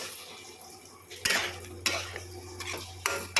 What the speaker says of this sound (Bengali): মশলার সঙ্গে আলুটাকে মিক্স করে নিতে হবে।